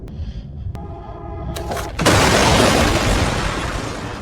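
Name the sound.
explosion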